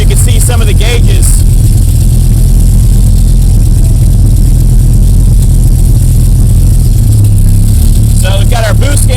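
A 1994 Dodge Viper Hennessey Venom 550 with a boosted 700-plus horsepower V10 idles loud and close after a cold start, a steady heavy low rumble with a voice talking over it briefly at the start and end.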